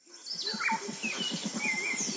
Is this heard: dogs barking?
no